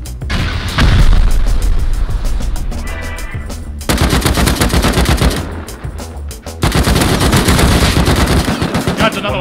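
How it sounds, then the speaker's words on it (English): An automated turret in the video game Rust fires long, rapid bursts of loud gunfire, broken by brief pauses, with sharp booming impacts mixed in. "I think they found a turret."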